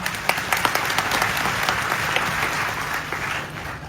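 Crowd at an outdoor political rally breaking into sustained applause, a dense steady wash of many hands clapping with a few louder individual claps popping out, continuous throughout without speech.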